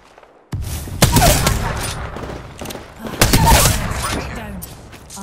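Automatic gunfire from a player's weapon in a shooter video game rattles in two loud bursts, each followed by ringing decay, with a voice talking briefly between shots.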